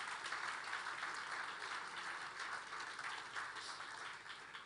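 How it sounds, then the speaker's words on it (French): A large audience at the Africa Forward Summit opening ceremony in Nairobi applauds. Dense, steady clapping rolls on throughout, fairly faint and distant, with no voices over it. "immense applaudissement pour vous tous ici"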